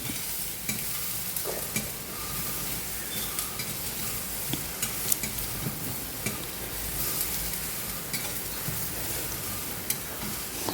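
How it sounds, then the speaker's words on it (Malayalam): Brinjal with turmeric powder is stirred in coconut oil in a pan, giving a continuous crackling sizzle with faint scraping taps from the spoon, close and alone without talk. "കുറച്ച് മഞ്ഞൾപ്പൊടി ഇട്ടു നന്നായിട്ട് ഇളക്കാം"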